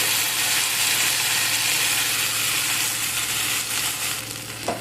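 Ground spice paste frying with browned onions in a pan, a loud continuous hiss of sizzling with faint stirring, steady for several seconds and easing slightly near the end.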